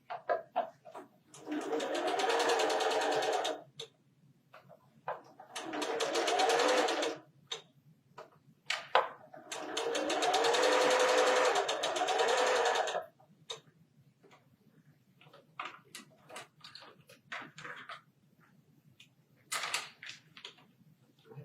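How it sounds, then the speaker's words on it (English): A sewing machine stitches quilt blocks along the far side of a diagonal line, running in three long bursts of rapid mechanical whirring, then shorter stop-start runs with ticking pauses between. "now I'm going to sew on the other side of the diagonal line"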